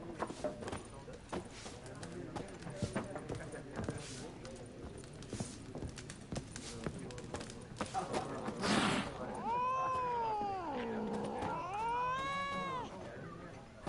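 A cat in the video game The Witcher 3 meows in a long, drawn-out yowl near the end, rising and falling over a few seconds. Earlier, game ambience and footsteps can be heard.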